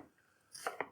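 Knife chopping red onion on a cutting board, two sharp close taps near the end of a quiet second with faint background hum.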